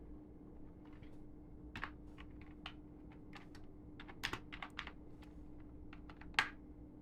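Code being typed on a computer keyboard while setting up a Django project: a steady run of close, crisp key clicks with irregular rhythm and a few louder strikes, and no voices.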